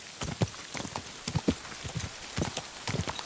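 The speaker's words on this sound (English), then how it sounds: "Get that horse under control." A horse's hooves clip-clop in the video game Kingdom Come 2, a steady sequence of soft, moderately close hoof beats with no voices.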